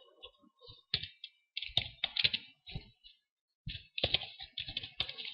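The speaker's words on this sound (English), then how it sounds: "type in the command so that we can run it as soon as we bring up our Wireshark" Quiet, close computer keyboard typing in irregular bursts of crisp key clicks, pausing briefly between runs, with no voices.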